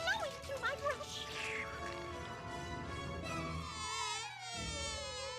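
Buzzing of a cartoon bee in a Mickey Mouse short, a whiny wavering drone that rises and falls alongside squeaky animated voices and music.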